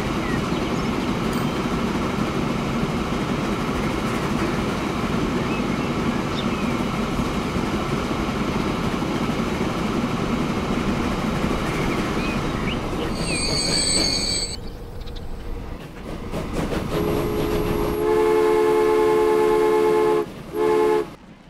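In Transport Fever, a train rumbles along the rails with grinding wheel noise and squeals, then drops quieter before several sharp, sustained horn toots sound in short bursts.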